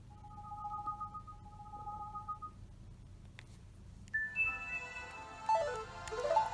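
A string of short Nintendo 3DS Zelda home menu theme blips and chimes, a steady two-note beep first, then brighter cascading tones, over a low background hum.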